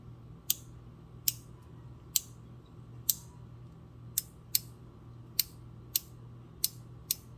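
A rotating ratchet mechanism clicks in sharp, crisp ticks, about ten evenly spaced clicks close up over a low steady hum, with no talking.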